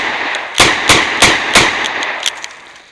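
A revolver fired double action with full-power magnum hollow-point loads, four loud, sharp reports in quick, even succession at close range, followed by fainter clicks and clatter as the shooting stops.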